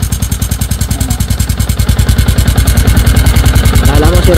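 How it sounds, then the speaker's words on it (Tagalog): A Yamaha Sniper 150 motorcycle engine idles loudly and close with a rapid, rhythmic knocking rattle from a loose part, the pulses steady and slightly quickening, while someone talks faintly underneath. "Luwag siya o, kumakalag."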